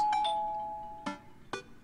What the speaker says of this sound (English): Just as I'm heading toward my room, the doorbell rings.